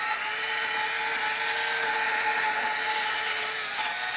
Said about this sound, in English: I like to take my wire brush and kind of work on this area.